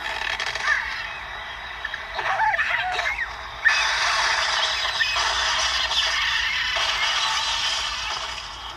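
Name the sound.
Angry Birds video game, birds crashing and structures breaking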